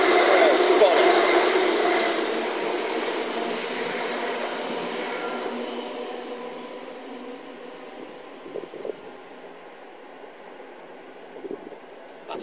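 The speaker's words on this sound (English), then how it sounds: "some busted express has to come through" An express train runs through a station on a quiet Sunday. A loud rushing roar fades steadily as it passes, leaving a fainter rumble with a few clacks toward the end.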